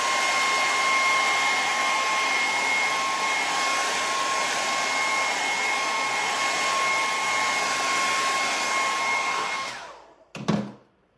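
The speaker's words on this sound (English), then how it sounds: "So I do have my hairdryer just to make sure that it's dry." A handheld hair dryer blows steadily to dry the painted surface of a festive fall sign. Its loud, even whoosh carries a faint whine for about ten seconds, then cuts off with a brief clunk near the end.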